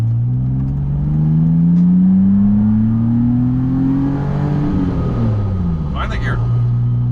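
BMW Z3 M Coupe with the S52 engine accelerating up a highway on-ramp, steady rising engine drone heard from inside the cabin, pitch climbing then dropping with a gear change, loud and continuous.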